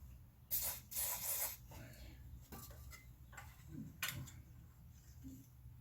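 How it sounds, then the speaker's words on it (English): Short hissing bursts of aerosol lubricant sprayed onto a lawnmower's recoil starter pawls, several quick spurts close up with light metallic ticks and clinks in between. "basically just spray some lubricant in there"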